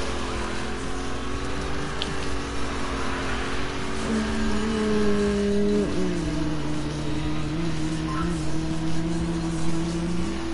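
A Lamborghini sports car engine revs and accelerates in a loud, steady drone that climbs in pitch, drops sharply around a gear change, then pulls on strongly.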